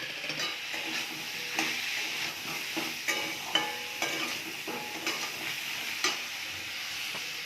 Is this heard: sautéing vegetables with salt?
yes